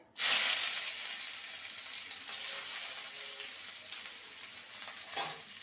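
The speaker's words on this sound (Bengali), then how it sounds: "পেঁয়াজটাকে ভেজে নেব" Chopped onion is dropped into hot oil already tempered with cumin seeds and a bay leaf, setting off a loud sudden sizzle that settles into a steady frying hiss, with a faint stirring scrape near the end.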